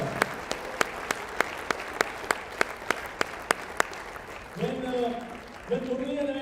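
Audience at a World Cup–related gathering in the United States claps in a slow, steady unison rhythm, about a dozen sharp, evenly spaced claps, before a voice begins speaking.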